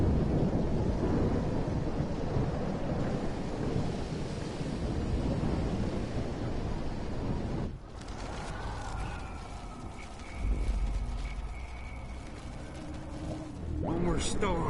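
Thunder and rain roar through a storm in the video game Life is Strange, with a heavy rumbling wash of rain and wind, then a sharp crack and rolling thunder later on. Voices speak over parts of it.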